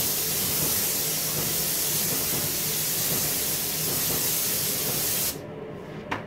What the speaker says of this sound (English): Alright, so your spray is already set up.